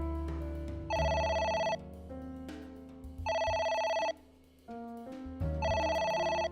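A phone rings in the video game AI: The Somnium Files, three repeated bright electronic ring bursts alternating with short pauses over a low background music bed, fairly loud and close.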